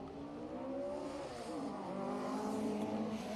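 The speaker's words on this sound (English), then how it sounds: "Steve Brazier heading towards us now in the 2-litre Mark II Escort" A 2-litre Ford Mark II Escort rally car at a historic sprint event approaches at speed, its engine loud and rising in pitch as it revs and shifts, heard from nearby.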